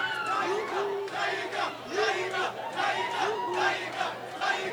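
A crowd welcomes singer Bruce Melodie with loud, sustained cheering, rhythmic group shouts and chanting, the whole room roaring continuously.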